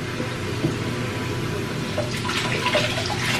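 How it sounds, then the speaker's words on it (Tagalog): Tap water runs strongly into a sink at a beach resort, a steady broadband rush that holds throughout with slight swells, close and alone with no voices. "Malakas naman yung tubig nila."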